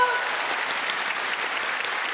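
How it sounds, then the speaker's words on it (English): Steady wash of applause from a comedy show audience, a continuous dense clapping crowd filling the room for a couple of seconds without pause. "Round of applause for the happy couple."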